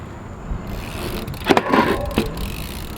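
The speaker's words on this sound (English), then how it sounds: "Second grind is the double peg grind, and it speaks for itself." BMX bike doing a double peg grind with both pegs scraping along a ledge, a short burst of metallic grinding about a second long, close and fairly loud.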